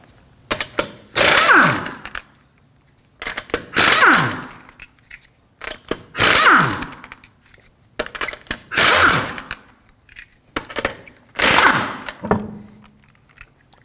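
Lug nuts come off the wheels of a 2013-2015 Subaru XV Crosstrek with a 19mm socket. Five loud, close bursts of tool noise, each with a falling whine, are evenly spaced by short pauses, with no talk.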